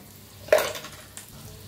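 Cumin, asafoetida and dried red chillies dropped into hot oil for a Marathi moong dal tadka, giving one sharp burst of sizzling that fades over about a second, with a smaller crackle after it.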